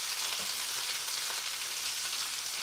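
Chicken thighs sear in a covered pan, a dense, steady sizzle and crackle of hot fat filling the whole clip, loud and continuous with no voices.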